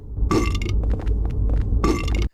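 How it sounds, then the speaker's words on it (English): Game sound effect of burping from Silent Hill 4: two loud, close belches at the start and end, with clinking and scraping noises scattered between them. "We are beyond the dark times of the burp sound design from Silent Hill 4."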